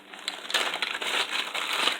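Swiss cheese is grated on a small zester grater in close, continuous scraping and crunching strokes, fairly loud and without talk.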